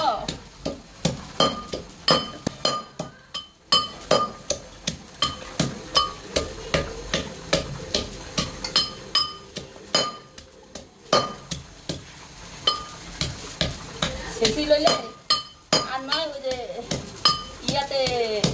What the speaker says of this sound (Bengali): এই যে কচুটা হামানদিস্তার মধ্যে দিয়ে দিল।